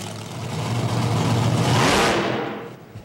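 The Bigfoot monster truck's big engine revs up hard and loud, swelling to a roaring peak and then easing off, with a sharp knock right at the end.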